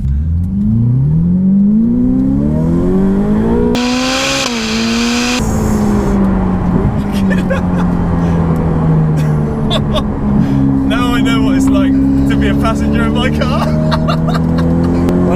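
Ferrari 488 Pista with a new Inconel exhaust, engine droning and rising through revs from inside the car, with a sharp loud burst and later crackling pops, people talking over it throughout.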